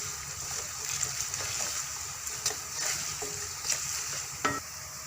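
Oil sizzling steadily in a pan while ingredients for a boneless chicken karahi fry, a constant bright hiss with occasional spatters and stirring clicks, close and alone.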